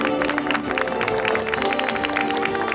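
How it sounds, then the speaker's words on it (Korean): Audience applause at an outdoor charity temperature-tower unveiling ceremony in Sejong, a dense, steady patter of many hands clapping, loud and continuous. "큰 박수 부탁드립니다"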